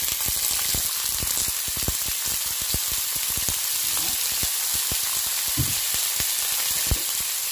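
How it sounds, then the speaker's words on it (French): Onions fry in oil in a skillet for a tomato and minced meat sauce, giving a steady dense sizzle with scattered sharp crackles and pops, close and continuous, no talk. "Donc là, j'ajoute les oignons."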